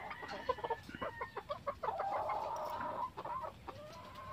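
A pure Allen Roundhead gamefowl rooster clucks close by in a quick run of short, throaty calls, then a longer drawn-out cluck, with no talk.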